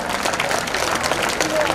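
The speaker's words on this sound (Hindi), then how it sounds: "आप जोरदार तालियां बजाएं" A crowd at a Digambar Jain community celebration in Udaipur claps loudly and steadily, dense continuous applause filling the short moment with some voices mixed in.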